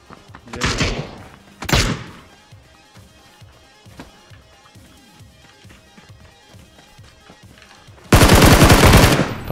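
Gunfire in the battle royale game PUBG: a few sharp separated shots, then a rapid burst of automatic fire loud and close at the end, with quieter thuds and faint distant pops between.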